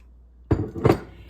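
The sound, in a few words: spoon clinking while stirring soy milk and vinegar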